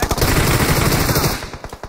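Rapid machine gun bursts from a mobile battle royale shooter game, loud and continuous for over a second before breaking into a few separate shots.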